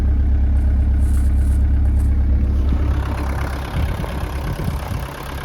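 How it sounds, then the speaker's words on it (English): A 1963 Mercedes-Benz 190D diesel engine idles close and loud with a deep steady rumble, then gives a rougher, knocking clatter toward the end. "Turn the ignition on, heat the glow plugs, and then we pull this pull start button, and the diesel fires right up."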